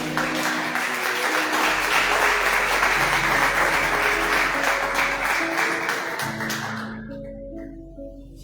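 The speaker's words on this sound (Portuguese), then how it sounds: "Em nome de Jesus, aplauda o Senhor." A church congregation applauding, a dense, loud wash of many hands clapping with sustained music tones underneath, fading near the end as a low keyboard chord remains.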